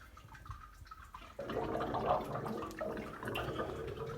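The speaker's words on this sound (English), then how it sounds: "get some beer flowing into this pipe" Liquid runs through a pipe on a BrewTools B80pro brewing system during a brew day. A faint trickle and drip swells into a steadier, gurgling flow partway through, close by and alone.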